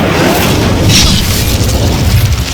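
A fiery Incendio spell blast in Hogwarts Legacy roars as one loud, sustained whooshing burst at an enemy camp, dense and close throughout.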